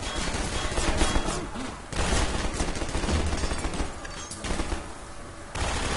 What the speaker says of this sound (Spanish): He visto que me están disparando de algo.